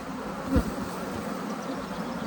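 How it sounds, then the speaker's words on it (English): Honey bees buzz in a soft, steady drone throughout as they are shaken into a hive, with one brief thump partway through, fairly close and quiet. "I'm shaking the bees all in there"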